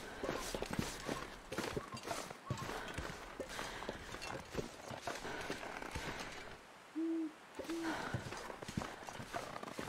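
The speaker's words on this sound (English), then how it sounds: "Guess those were my footsteps I was hearing" Footsteps of a player character crunch along in a survival video game, a steady rhythm of soft, uneven steps trudging forward through the whole stretch, with a brief tonal hoot-like sound near the end.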